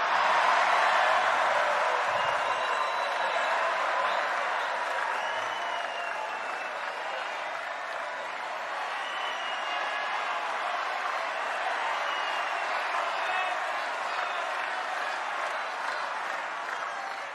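Audience applause fills a hall at a Waktunya Indonesia Maju event honoring Prabowo Subianto, a dense, sustained clapping that holds steady for the whole stretch.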